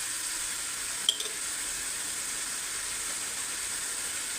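Kashmiri mutton rogan sautés in a pan with Kashmiri chili powder, a steady, even sizzling hiss throughout with one small tap of a utensil early on, no talk.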